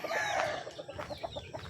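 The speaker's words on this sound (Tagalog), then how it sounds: "Kumakain na natin mga alagang sisiw." Pet chicks and a hen cluck close by while being fed, with soft clucks and short chirping calls in a loose, irregular rhythm.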